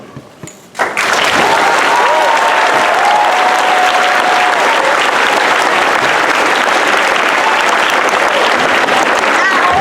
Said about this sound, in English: So please join me in giving him a huge round of applause